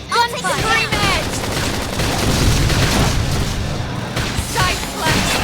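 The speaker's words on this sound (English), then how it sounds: "Try toppling it with gunfire." Rapid bursts of gunfire and booming impacts from a battle in the video game Xenoblade Chronicles X, with a dense, loud barrage of shots and blasts running for several seconds under character voices and music.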